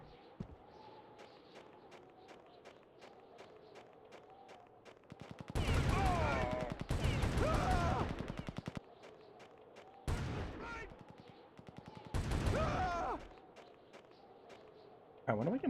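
Heavy automatic gunfire bursts in a Duke Nukem prototype game, two long loud volleys and shorter ones after, with quiet ambient game noise between and someone talking at times.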